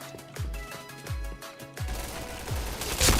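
Repeated gunshots in the video game Point Blank, sharp thumping bursts spaced roughly every half second, loud and close, with layered game sound effects rising toward the end.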